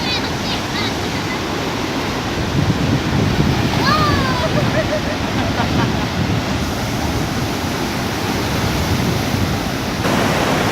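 Roaring, steady rush of water at Khone Phapheng waterfall in southern Laos, a constant broad wash of noise with wind buffeting the microphone and faint voices in the background.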